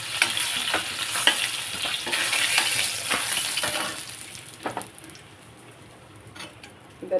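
Tilapia fish frying in oil sizzles steadily with scraping stirs and turning sounds, loud at first then easing to a quieter hiss near the end, close and without talk.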